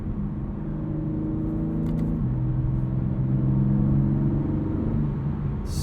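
Engine of a 2021 BMW M3 Competition heard from inside, a steady low rumble that climbs in pitch, drops at a shift, then rises again under load.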